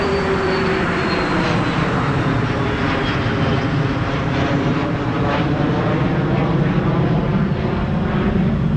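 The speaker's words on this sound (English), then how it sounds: "What kind of airplane is this?" An airplane flies overhead with a loud, steady engine drone that fills the whole stretch without fading.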